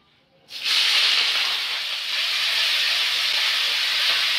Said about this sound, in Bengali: এবার লাউ শাকটা দিয়ে দেবো।